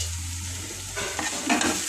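Cauliflower and cabbage curry sizzles in a pan while a spoon stirs it, a soft frying hiss giving way to louder scraping and stirring strokes near the end.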